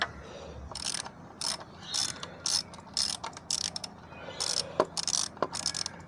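Ratchet wrench loosening a bolt on a Triumph Tiger 1200 Rally Explorer motorcycle, quick bursts of close metallic clicking repeated in short strokes with brief pauses between, plus a couple of sharp knocks.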